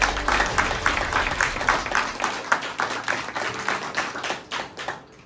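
An audience claps loudly for the seniors at a motivational talk, with dense, sustained applause that stays steady and fades slightly at the end.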